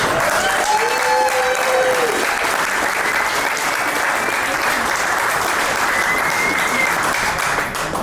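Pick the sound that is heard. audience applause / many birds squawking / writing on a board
audience applause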